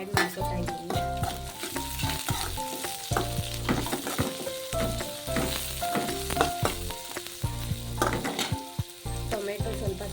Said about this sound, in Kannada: ಇದು ಸ್ವಲ್ಪ ಫ್ರೈ ಆಗೋಕೆ ಬಿಟ್ಬಿಡಿ.